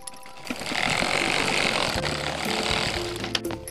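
A sewing machine runs steadily at close range while stitching the sleeve of a designer blouse, giving a continuous mechanical whir with small clicks.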